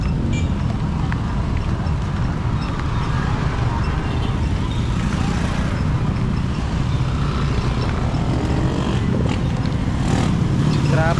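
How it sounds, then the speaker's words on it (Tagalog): Afternoon road traffic roars steadily around a moving tricycle, with a continuous broadband rumble of nearby engines and passing vehicles and occasional louder swells near the end. "Traffic dito paghapon."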